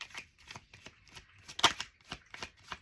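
Tarot cards being shuffled by hand, a quick run of soft, crisp riffling bursts in steady rhythm, close and fairly quiet.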